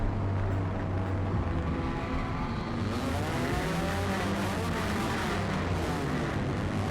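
A race car rejoins the track after a pit stop for a tire change, its engine droning loudly and steadily throughout with a continuous roar and shifting pitch, heard close and alone.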